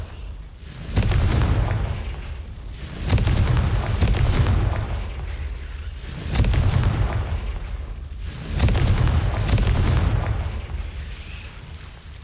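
Fire-spell explosions in the Hogwarts Legacy video game, four deep booming blasts a couple of seconds apart, each swelling and then rumbling away, loud and close with no talk.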